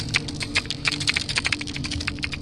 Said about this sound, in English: it sounds like it's some sort of creature making this reverberating click